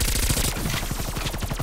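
A burst-fire gun shooting in Call of Duty: Black Ops Cold War, with loud, dense, rapid repeating shots filling the short stretch and no voices.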